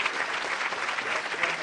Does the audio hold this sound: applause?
yes